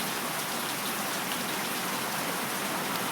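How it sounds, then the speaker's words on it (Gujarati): Steady rain pours down outdoors in a village, a dense, even hiss of drops striking surfaces that continues without a break from start to finish, with no voices. "જો વરસાદ એને આવી ગયો હે"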